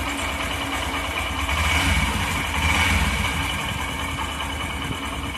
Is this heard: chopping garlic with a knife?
no